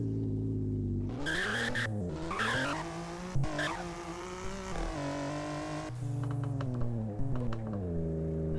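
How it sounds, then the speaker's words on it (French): A video game car drifts in Classifia with its engine revving and rising and falling over long skidding tire squeals, steady and fairly close, with a few faint key clicks. "On va se faire une petite séance drift."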